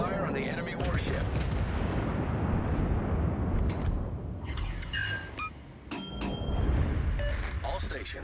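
Heavy naval gunfire from warships in World of Warships, a continuous dense rumble of booming salvos and blasts with brief metallic pings, sustained and loud throughout without pauses.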